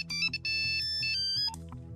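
A mobile phone ringtone plays a bright electronic melody of sustained tones with a few short pauses, loud and close, with no talking over it.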